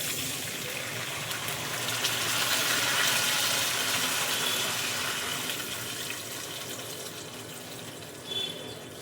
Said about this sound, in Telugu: అలాగా వాటర్ యాడ్ చేస్తున్నాను